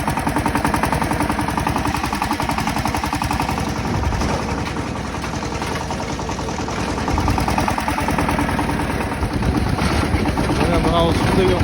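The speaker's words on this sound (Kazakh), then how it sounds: "Ұрып тұр трактор деген, ұрып тұр." A tractor diesel engine running on winter fuel pounds hard and loud in an icy setting, with a rapid, relentless knocking beat all the way through while someone talks over it.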